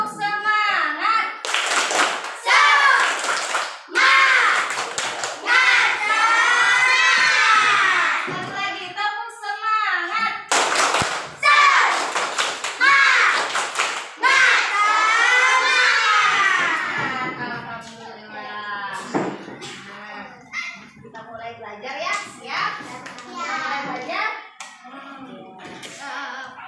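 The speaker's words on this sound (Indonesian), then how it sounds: "Nah, tepuk semangat dulu yuk, berdiri." Indonesian schoolchildren in a classroom clap in a steady rhythm while chanting together loudly, with bursts of group voices and claps repeating through the chant.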